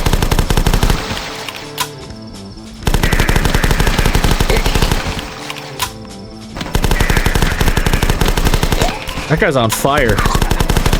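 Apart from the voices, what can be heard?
gunfire from the video game The Last Stand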